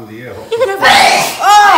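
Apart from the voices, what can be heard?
sneeze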